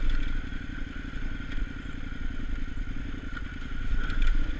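Dirt or trail motorcycle ridden up close on Slick Rock Trail's sandstone in Moab, its engine a steady, loud, gritty drone with clattering and scraping over the rock throughout, swelling slightly near the end.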